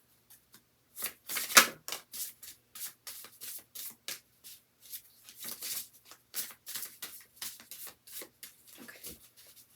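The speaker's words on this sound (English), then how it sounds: "Let's give it one more shuffle." A deck of tarot cards is shuffled by hand in a quiet room, with a series of soft riffling, sliding bursts arriving in irregular clusters, close and crisp against near silence.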